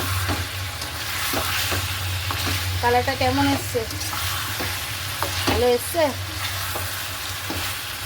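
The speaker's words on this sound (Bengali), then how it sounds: "এই দেখো মাংসটা কষানো হচ্ছে" Meat sautés and sizzles steadily in a pan while being stirred, a continuous close frying hiss with a brief exchange of speech over it.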